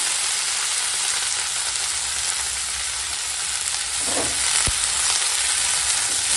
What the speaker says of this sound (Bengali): মোচাটা দিয়ে অল্প সময় তেলের উপরে ফোড়নের সঙ্গে একটু ভেজে নিলাম।